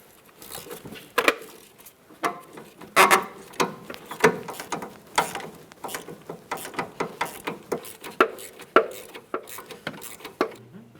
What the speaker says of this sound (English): I'll be using a 14mm and I'm just holding that socket with a ratchet.